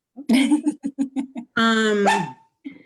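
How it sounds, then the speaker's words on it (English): A dog barks in a quick series of about eight close, loud barks, followed by a longer drawn-out whine or yelp, in an indoor home setting with no talk over it. "my dog is barking"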